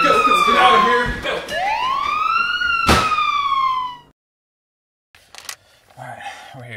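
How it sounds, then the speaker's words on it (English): A police siren in a short film scene wails and rises in pitch, loud and close, with a sharp bang partway through, then cuts off into silence before faint noises return. "Sirens."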